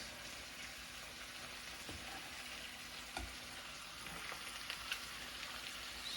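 Vegetables and bacon stir-frying in a pan with a maple garlic glaze: a steady broadband sizzle with scattered clicks and scrapes of stirring, close and continuous, no talking.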